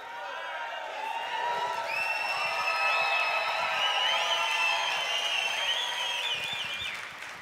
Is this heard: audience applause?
yes